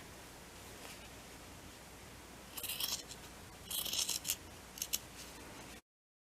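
Scissors snip into an old t-shirt in a few quiet, close bursts, a couple of longer crunching cuts followed by two or three quick snips over faint background hiss.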